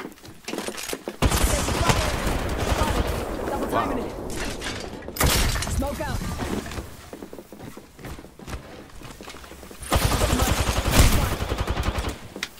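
Gunfire from a shooting video game crackles in dense rapid bursts, with a heavy barrage early on, a shorter flurry midway and another loud volley near the end, mixed with clattering game mechanics.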